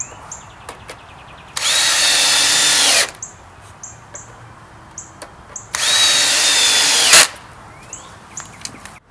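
A cordless power drill drives screws into wooden boards while building a garden raised bed, two loud sustained whirring bursts of about a second and a half each, separated by quiet handling clicks and taps, close by.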